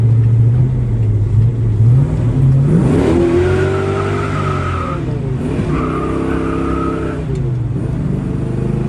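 A 1966 Chevelle does a burnout on wet pavement, its engine revving hard and rising in pitch as the tires squeal and spin, loud and close, in two long surges with no talking.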